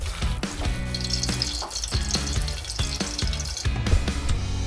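Lumpia filling being stirred in a pan after oyster sauce is added, giving close scraping and sizzling with soft clatter, heard under steady background music.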